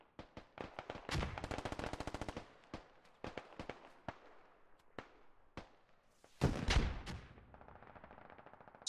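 Squad combat gunfire crackles at a distance with scattered single shots, then a dense rapid automatic burst, more isolated cracks and a heavier booming volley near the end, alongside RPG frag round impacts, with no voices over it.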